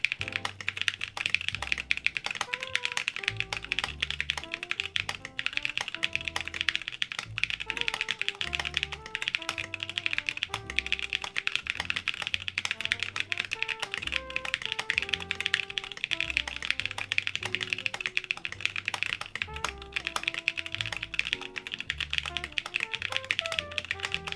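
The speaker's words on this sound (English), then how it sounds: "let me do another typing test" A typing test on a Geonworks W1-AT keyboard fitted with Corsa switches, with fast continuous keystrokes clattering close and steady throughout, mixed with background music.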